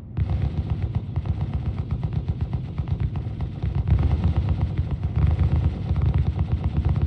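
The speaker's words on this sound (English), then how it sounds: "Turret gunners, fire at will." Spaceship turret guns in the space game Star Citizen fire in rapid, sustained automatic bursts, a dense continuous clatter of shots that stays loud throughout.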